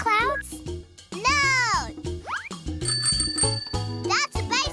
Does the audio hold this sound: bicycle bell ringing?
yes